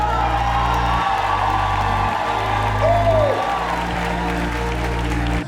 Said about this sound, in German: Könnt ihr mega fetten Applaus machen für Daniel Lier!